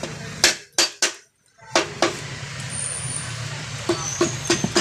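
Sharp metallic hammer blows strike a Rusi TC 125 motorcycle engine during disassembly in an uneven sequence, several early hits then a pause, with more taps over a low background rumble.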